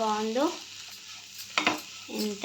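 Grated coconut and carrot stirred in a frying pan with egg and drumstick leaves, a soft steady sizzle with a sharp scraping stir in the middle, while a voice talks over the start and end.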